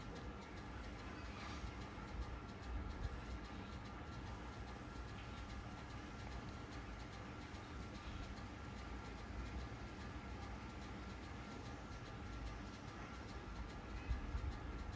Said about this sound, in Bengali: এখন আপনারা মেট্রো রেলের দৃশ্য দেখতে পাবেন উত্তরা দিয়াবাড়ির অংশ থেকে।